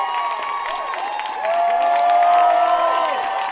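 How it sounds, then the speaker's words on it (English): Homecoming football crowd at a Maryville College home game against Methodist University, a steady roar of fans swelling louder midway through with scattered cheers and whoops, no talk over it. "The crowd starting to get into it here."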